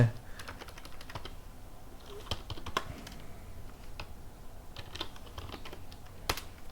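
Computer keyboard typing while a test.log file is written during a Bash scripting lesson, an irregular run of close, crisp key clicks with brief pauses and a few louder strikes, over faint room noise.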